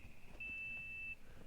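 A PUBG video game gives off a single steady electronic beep lasting under a second, clear and moderately loud over faint background game noise.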